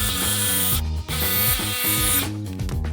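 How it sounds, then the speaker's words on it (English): A jigsaw cuts out a wooden wine rack piece, a loud, steady buzzing whine running almost without break, with a short dip partway through. "we're going to be taking our jigsaw and cutting this out"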